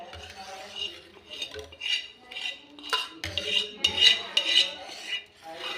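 A spoon scrapes and clinks against a pot as dal is stirred with desi ghee, an irregular run of close metallic knocks and rasps.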